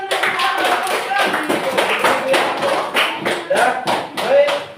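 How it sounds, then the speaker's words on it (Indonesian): A classroom of students claps together after a computational-thinking lesson, with loud, fairly regular bursts of hand claps and a few thumps, mixed with voices and chatter in the room. "Kasih tepuk tangan dulu"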